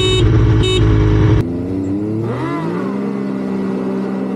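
Motorcycle and Can-Am X3 Turbo side-by-side revving hard at a drag race launch, a loud sustained engine roar that cuts off abruptly, followed by a lower, rising engine whine from a vehicle pulling away.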